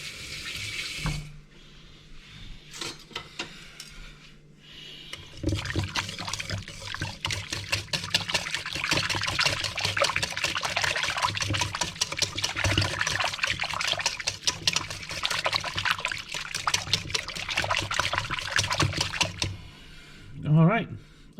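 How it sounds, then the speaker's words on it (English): Rapid, continuous whisking through mildly warm, yeasted injera batter to break up lumps, a busy wet sloshing that runs for about fourteen seconds, with quieter handling sounds before and after. "I think I'm going to whisk it to try to get some of these lumps out."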